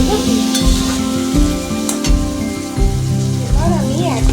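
Potatoes and tomatoes fry in a pan with a steady, close sizzle that runs throughout, while background music plays and a voice talks over it.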